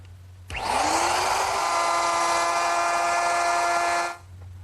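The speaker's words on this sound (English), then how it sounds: "To make the dado, I'm going to use my router, which is equipped with a collar and a straight cutting bit." A router fitted with a collar and a straight bit cuts a dado in wood. The motor whines up loudly, holds a steady high-pitched cutting roar for about three and a half seconds, then stops abruptly, with no voices.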